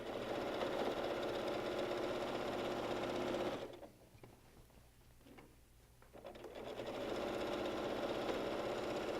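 A sewing machine stitching a border onto a dinosaur-themed quilt runs in a fast, steady whir close by, pauses briefly for a few seconds with faint handling noise, then resumes at full speed.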